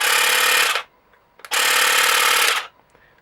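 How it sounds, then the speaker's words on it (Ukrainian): A Tekhmann TCGT-8/I20 cordless grass trimmer motor whirs loudly at a steady pitch in two bursts of roughly a second each, cutting off abruptly between them with a brief click in the pause. "Як ми бачимо, почав працювати наш тример."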